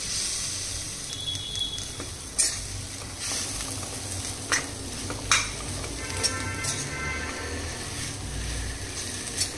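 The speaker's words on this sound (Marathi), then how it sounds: "आता आपण यामध्ये शेवग्याची शेंगा ॲड करणार आहोत आणि 1 मिनिटभर व्यवस्थित यामध्ये परतून देणार आहोत" Drumstick pods sizzle in hot oil with spice masala as they are stirred, a soft steady frying hiss broken by occasional scrapes and clinks of a spoon against the pan.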